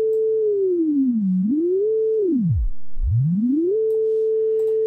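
Synthesized oscillator tone in Unreal Engine MetaSounds, triggered by an ADSR envelope: a pure sine-like pitch that glides down and back up, swoops sharply down and up again, then holds steady, heard alone.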